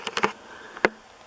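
Flies, deer flies among them, buzz near the ear at a quiet outdoor spot: a quick run of three short buzzing passes, then a lone louder buzz a moment later, with no talking.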